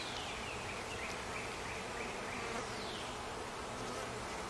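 Honeybees buzz steadily throughout an apiary hive inspection, a dense, even hum of many insects close by, with no voices.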